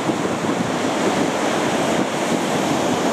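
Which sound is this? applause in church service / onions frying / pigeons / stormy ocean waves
stormy ocean waves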